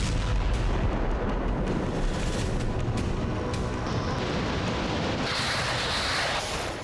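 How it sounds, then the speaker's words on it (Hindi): A loud, sustained roar of a FAB 3000 guided bomb blast rumbles throughout, with sharp cracking bursts and a rushing, turbulent wash of noise from the shockwave. "देखिए किस तरह धमाके के बाद एक बड़ी शॉकवेव निकल रही है।"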